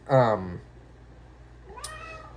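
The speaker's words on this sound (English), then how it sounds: "It's my cat down there. She snuck in when I went to go fix my hair." A pet cat gives a loud, close meow, followed after a pause by a second, fainter rising meow.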